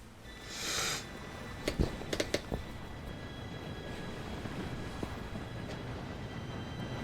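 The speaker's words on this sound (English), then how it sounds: "Train should be here any minute now." A train approaches in the video game Red Dead Redemption 2 as a low, steady rumble with a few sharp metallic clanks and a brief hiss. The sound is distant and moderately faint.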